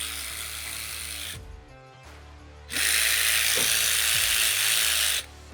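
A ratchet wrench removes the rear mounting screws behind the upper seat cushion of a Can-Am Defender cab. Steady buzzing clicks run in two loud, close bursts separated by a short quieter pause.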